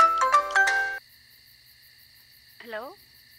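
A mobile phone ringtone plays a bright, melodic burst of tones for about a second, then falls silent before a short, rising chirp sounds near the end.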